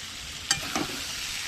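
Meat fries in a pan over a strong gas flame, a steady close sizzle broken by two quick stirring scrapes, with no voices.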